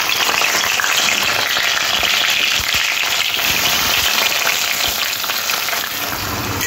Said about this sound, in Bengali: এরপর এই বেগুনের টুকরোগুলো তেলের মধ্যে দিয়ে লাল লাল করে ভেজে নিতে হবে।